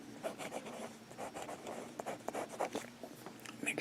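Kaweco fountain pen with a double broad nib scratching across paper, a steady run of close, soft strokes: downstrokes and cross strokes in an uneven rhythm, alone without talk.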